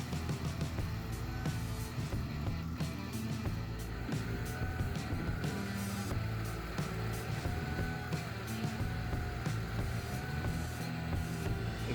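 A Case Ingersoll 648 mini commercial loader on R4 tires pushes into dirt, its engine droning steadily at low pitch with scattered knocks and clatter, and no voices.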